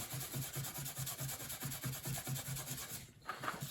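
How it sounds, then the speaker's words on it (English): A Scotch-Brite pad scrubs a swapped junkyard Hemi engine part clean, making a steady back-and-forth rubbing rhythm with regular strokes, close and fairly quiet, pausing briefly near the end. "Get that fairly clean with the Scotch-Brite."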